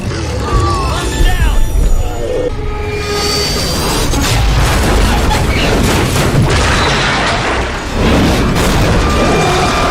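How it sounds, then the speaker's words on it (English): A big explosion in the video game Back 4 Blood booms and crashes, followed by a dense, rumbling tail of debris and gunfire-like bursts that stays loud throughout. "Back 4 Blood has like an explosion though."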